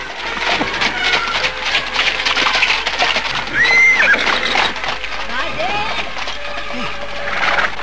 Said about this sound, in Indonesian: tiba-tiba melintaslah sebuah gerobak kereta yang ditarik seekor kuda